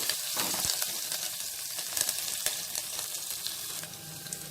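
Onion slices frying in a pan with curry leaves, a steady close sizzle with soft crackles and a few light stirring clicks, no voices.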